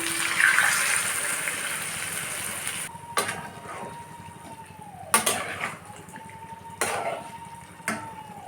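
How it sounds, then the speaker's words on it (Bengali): Water poured into a cooking pan of jackfruit curry, a steady close splashing pour at first, followed by several sharp metallic clinks and knocks of a bowl against the pan. "বাটিটাকে ধুয়ে সামান্য একটু জল দিয়ে দেবো।"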